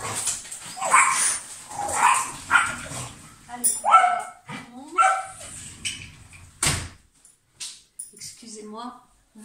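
Dogs bark and yip in short bursts with a whimper or two, mixed in with someone talking close by.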